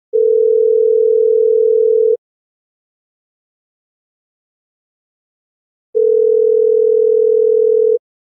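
A phone rings out on the caller's end while someone dials an office. Two long, even ringback buzzes are separated by about four seconds of silence, loud and clear with nothing else heard.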